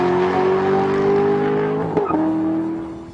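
A 2010 Chevrolet Corvette Z06 Carbon accelerates hard down a drag strip, its engine howling loudly and rising in pitch, then dropping sharply at a gear change before climbing again.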